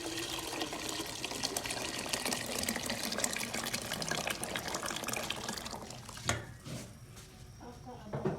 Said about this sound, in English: so we'll add water